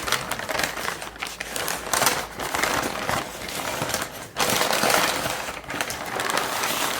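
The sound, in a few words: unwrapping a smoked wagyu brisket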